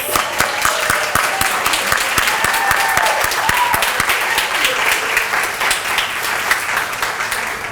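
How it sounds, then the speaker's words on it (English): An audience at a welcome and pinning ceremony gives new students a sustained round of applause, dense, even clapping from a large crowd filling the hall from start to finish. "Give our new students another round of applause."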